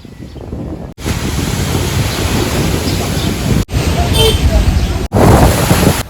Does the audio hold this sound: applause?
no